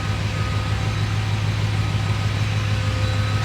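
A Chevy COE truck engine runs steadily at close range with a loud, continuous low hum and droning mechanical tone that holds even throughout, no talking over it.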